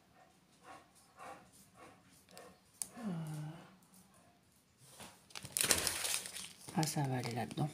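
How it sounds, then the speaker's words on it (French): A small dog whimpers and whines in brief high cries near the microphone, mixed with crinkling packaging and a woman's speech during a cosy at-home unboxing of craft items. "Excusez-moi, c'était mon chien."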